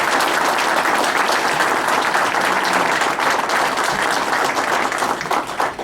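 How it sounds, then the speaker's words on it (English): At a ceremony after the colors are retired, an audience breaks into loud, close, continuous applause for the civil air support, with dense clapping filling the whole stretch. "A round of applause for that civil air support."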